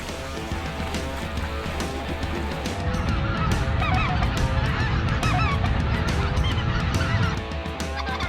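A large flock of speckled-bellied geese honks continuously over an Arkansas hunting ground near Stuttgart, many overlapping calls rising to a loud, dense chorus midway through, with no talk.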